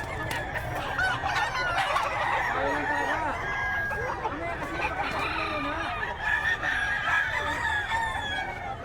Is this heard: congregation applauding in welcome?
no